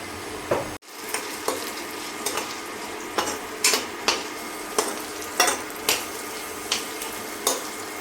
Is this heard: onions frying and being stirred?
yes